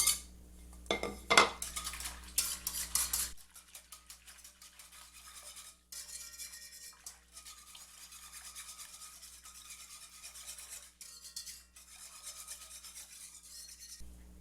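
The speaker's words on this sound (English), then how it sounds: "we're going to add 1 cup, this is ×3 recipe, of dry mustard powder. And we're just going to whisk that in." Dry mustard powder whisked into a large batch of homemade Dijon mustard mixture in a pot, giving steady close scraping and clinking of a metal whisk against the pot after a few loud initial clatters.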